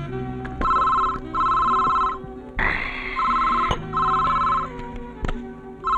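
A telephone bell rings in repeated bursts, each ring a sustained electronic trill, with brief pauses between rings and a short noisy interruption in the middle; no one speaks over it.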